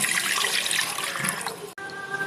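Water pours steadily into tamarind for a spicy fish curry, a close rushing splash that stops abruptly, then a quieter trickle continues.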